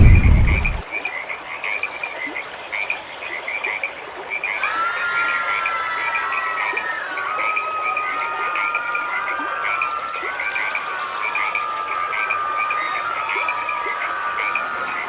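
Many frogs croaking in a steady pulsing chorus, with a thin warbling call rising over it partway through.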